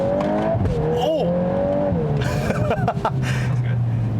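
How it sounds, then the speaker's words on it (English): A 2022 Volkswagen Golf R with a sport exhaust and seven-speed dual-clutch gearbox held in manual mode drones steadily under load, then spits a quick run of sharp crackles and pops, with a voice cutting in briefly. "that sport exhaust with the crackles and pops"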